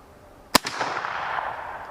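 A single sharp report from a trapdoor rifle fired with a smokeless powder load, one loud crack followed by a short echoing tail that fades out.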